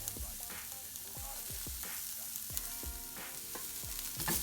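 Red onions sautéing in olive oil in a pan over medium heat, a steady close sizzle with repeated scraping stirs at a regular rhythm, no voices.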